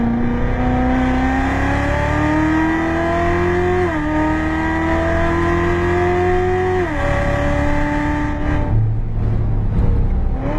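A race car accelerates hard around a track near Las Vegas, its engine note climbing steadily with two brief dips at gear shifts, loud and continuous throughout, then easing off near the end.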